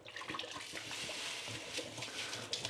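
Rice is rinsed in water in a pot for a Thai yellow chicken curry, giving a steady, busy sloshing and splashing that runs without a break, fairly close and loud.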